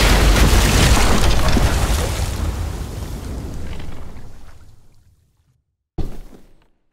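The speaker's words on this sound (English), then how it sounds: "Shit, the bomb!" A bomb explosion in The Walking Dead: The Final Season video game: a loud, heavy blast roars and rumbles, fades into silence, then a second sharp burst hits and quickly dies away.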